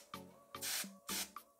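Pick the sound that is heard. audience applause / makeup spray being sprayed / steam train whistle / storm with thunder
makeup spray being sprayed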